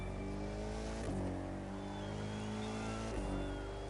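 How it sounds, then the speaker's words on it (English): A car in the racing video game The Crew 2 runs hard on nitrous boost, a loud sustained engine drone with steady harmonics and two quick gear-shift dips, alone without talk. "Whatever nitrous I have on this car is pretty awesome."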